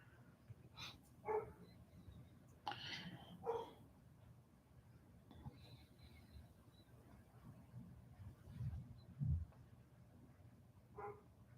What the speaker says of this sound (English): Neighbor's dog's barking.